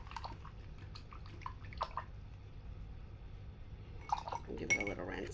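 A paintbrush swished and tapped in a water cup for rinsing gives faint splashes and glassy clinks over a low background hum, with a louder swirl of water toward the end.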